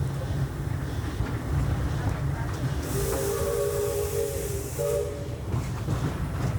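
The Disneyland Railroad train rumbles steadily along the track, its wheels and running noise close and continuous, with a hiss of steam and a brief whistle-like tone partway through.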